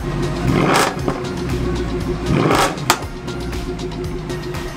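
A Mercedes C63 AMG engine in Sport Plus mode revving hard twice, rising and falling, with a rumbling idle between bursts and a brief clatter.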